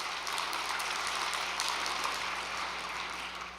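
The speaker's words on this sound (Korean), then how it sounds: "우리 광양대교회를 위해서 격려의 박수 한번 보내주시기를 바랍니다." Steady applause of encouragement from a church congregation, a dense, even clatter of many hands that holds at one level throughout without voices.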